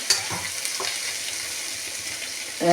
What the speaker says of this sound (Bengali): ফ্রায়েড রাইসের জন্য সবজি ভাজা হচ্ছে, পেঁয়াজ সবজি ভাজা হচ্ছে।